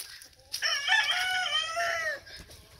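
A backyard rooster crows once in a long, strained call lasting over a second, fairly faint and somewhat distant, with soft low clucking from hens in the yard before and after.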